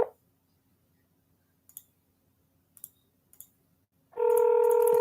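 A phone dials a follow-up call to a seller, with a few soft clicks spaced over quiet followed by a loud steady dial tone at the end.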